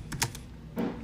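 Keys on a computer keyboard tapped while an SQL query is typed, a few quick close clicks in a brief burst.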